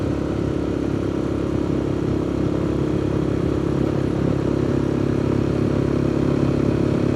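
Motorcycle riding along on a dual-sport route, steady loud engine drone with rumbling road and wind noise, continuous and close throughout with no break.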